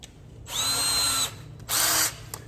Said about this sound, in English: switch over to the step bit